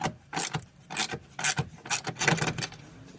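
Ratchet wrench with a 12 mm socket turning out a top bolt on a Subaru hood support, a run of short rasping clicks in bursts with brief pauses, close and fairly clear.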